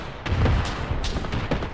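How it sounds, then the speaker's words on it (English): Gunfire in the military video game Arma on the island of Sahrani, with scattered shots and booming reports, some sharp cracks and distant thuds spread across a steady noisy backdrop. "Gunfire north."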